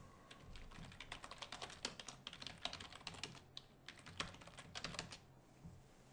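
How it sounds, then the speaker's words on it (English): Quick, light keystrokes on a computer keyboard while entering a username and password: rapid irregular clicks in short bursts, close and quiet, with no talk. "we enter our username and password"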